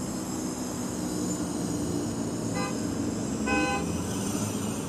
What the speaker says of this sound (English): So that sound box is playing different traffic noises inside